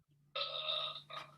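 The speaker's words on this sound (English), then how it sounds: "I don't know if you can hear the burping in the background." A single loud, drawn-out burp, followed by a shorter second belch, with a faint steady hum underneath.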